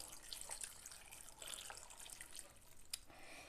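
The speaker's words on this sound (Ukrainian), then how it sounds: "Тепер сюди додаю одну чашку води" A cup of water poured into a multicooker pot of fried vegetables and potatoes, a quiet, steady splashing trickle with small drips throughout, faint and close with no talk.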